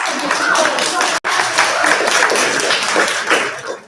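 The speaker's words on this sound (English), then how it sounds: "Let's give a round of applause." An audience at a school parent night applauds a group of students, with dense, steady clapping filling the room and voices mixed in; the applause cuts out for an instant, then resumes just as full.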